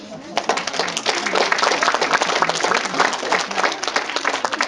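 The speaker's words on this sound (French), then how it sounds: "On applaudit très fort." An audience, gathered for a live video-call meeting with a film director, claps loudly and continuously in a dense, even wash, with faint voices mixed underneath.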